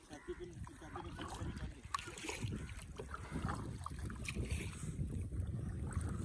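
Paddles splash steadily in water from a kayak on a mangrove safari, with wind buffeting the microphone and voices talking over the strokes.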